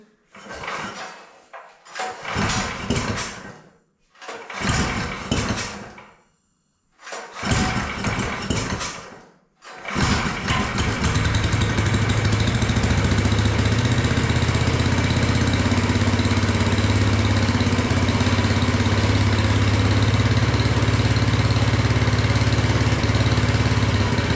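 A motorcycle engine, choke on and without a chain, cranks in four short bursts separated by pauses, then fires and settles into a loud, steady idle that runs for the rest of the clip.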